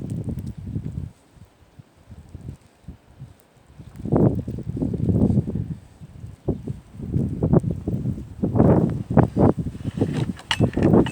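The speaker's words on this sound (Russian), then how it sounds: "я хотел вам показать пургу" Gusty blizzard wind blows outdoors in uneven, surging bursts that buffet the microphone, dropping off briefly before roaring back louder.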